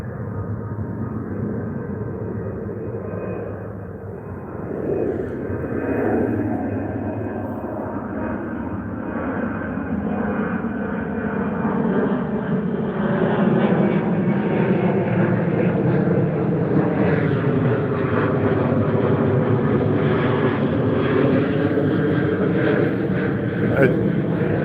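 An airplane drones overhead above a graveyard, a steady low engine hum that slowly swells louder, with a person talking over it.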